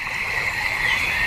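A common frog croaks in a continuous raspy buzz, close and loud, with no talking over it.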